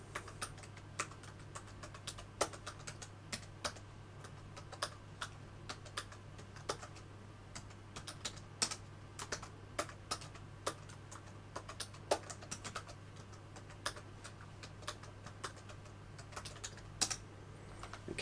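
Computer keyboard being typed on to enter a password, a long run of quick, light key clicks at an uneven pace over a faint steady hum, close by and without speech.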